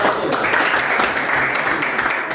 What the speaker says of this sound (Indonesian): Berikan aplaus buat kelompok